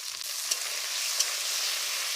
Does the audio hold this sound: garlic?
yes